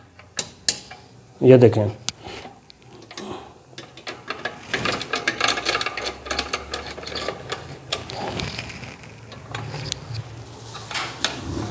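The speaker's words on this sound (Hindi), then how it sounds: "अब मैं आपके सामने ना इसको पेच लगाता हूँ।" Screws being driven and tightened into the casing of an electric iron under repair at home, giving a run of small ratcheting, clicking mechanical turns with handling noise and a few brief spoken words.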